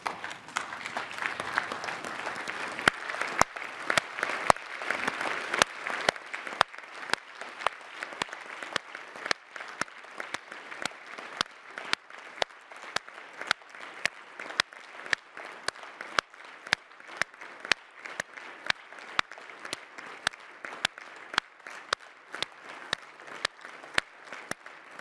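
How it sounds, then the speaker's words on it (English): A parliamentary assembly audience at a plenary session applauds in a long, sustained ovation, many hands clapping with sharp individual claps standing out and settling into a steadier rhythm toward the end. "If you share this hope, please stand and applaud for our Ukrainian colleagues."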